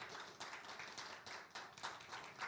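An audience at an academic conference opening ceremony applauds, with quiet, distant clapping in uneven bursts over a couple of seconds.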